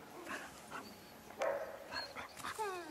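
A dog whines and yips in short, high-pitched bursts nearby, a few small vocal sounds spread across a quiet moment.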